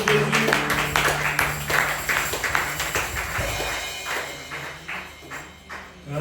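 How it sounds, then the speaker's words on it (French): A church congregation claps together in a steady patter of applause during a Thursday worship service, moderately loud and sustained for several seconds before thinning out. "Applaudissez pour le Seigneur Jésus."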